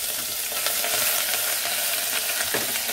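Steady, dense sizzling of grated ginger and garlic frying in hot oil, continuous and close, with a few faint stirring scrapes.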